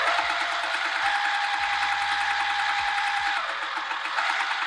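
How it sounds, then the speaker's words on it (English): A sewing machine lock-stitching a fabric coaster, a continuous fast mechanical whir with rapid needle ticking, close and steady, easing slightly near the end. "Now do lock stitch here"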